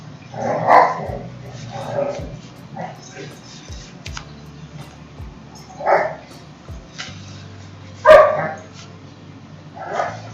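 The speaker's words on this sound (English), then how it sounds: "you hear my dog yelling in the background because she is very loud" A loud female puppy barks in the background at irregular intervals while someone talks and types on a computer keyboard nearby.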